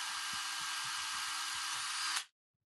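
A hand-held power drill bores steadily into a project enclosure, its tip heating up, giving a continuous close, loud whine with a faint hum beneath, running for about two seconds before it stops abruptly into silence.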